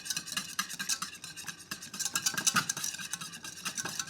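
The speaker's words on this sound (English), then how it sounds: "give it a good old whisk" A whisk beating a vinaigrette of mustard, thyme, acid and olive oil in a bowl, rapid rhythmic metallic scraping and ticking strokes, close up and steady with no talk.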